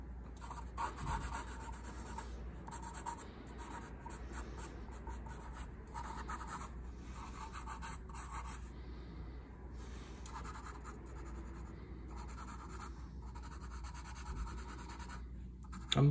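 An HB graphite pencil shades a chrysanthemum drawing on paper in continuous close, soft scratchy strokes with brief pauses between passes.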